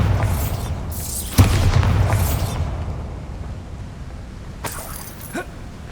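A Bombarda spell goes off in the Hogwarts Legacy video game, a deep booming blast followed by fading rumble and debris, with a second lighter burst a few seconds later.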